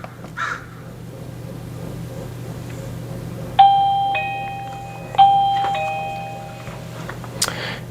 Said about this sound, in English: Press our doorbell.